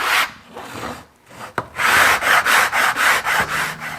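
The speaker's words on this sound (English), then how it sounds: "Just a piece of plywood with a handle screwed onto it and the coarse sandpaper glued to the bottom." Coarse sandpaper glued to a homemade plywood block with a screwed-on handle rasps back and forth over wood in steady, close strokes, about eight rhythmic passes with a brief pause early on.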